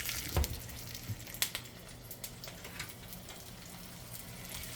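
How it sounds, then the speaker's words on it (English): Soft, steady sizzling and crackling of food frying in a hot pan, with occasional pops and spatters, fairly quiet and without talk. "So these are going to sizzle on."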